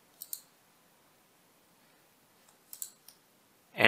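Mouse clicks while working in SOLIDWORKS: a quick double click, a long silence, then a cluster of two or three crisp clicks close to the mic, ending in a louder burst of noise.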